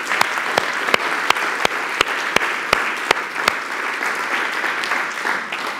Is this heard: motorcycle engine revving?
no